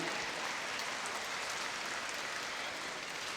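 A crowd at the Louisville Urban League Derby Gala fundraiser claps for donors: a steady, dense wash of applause from start to finish.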